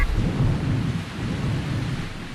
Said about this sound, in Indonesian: Sepertinya terkena sambaran petir.